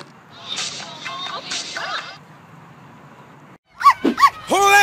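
A dog barks in short, sharp bursts near the end, loud and close after a stretch of muffled talk and background noise; voices are heard earlier in the clip.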